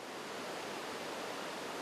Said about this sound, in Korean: 암벽 아래로 폭포수가 우렁차게 내달리는데요.